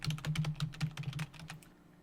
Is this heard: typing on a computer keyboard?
yes